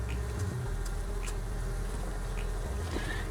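Bees buzz steadily around a keeper working the hive outdoors, a low continuous drone with a few brief higher whines of individual insects passing close.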